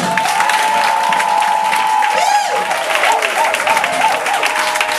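Church congregation applauding and cheering together in a steady, loud wash of clapping, with voices rising through the crowd noise.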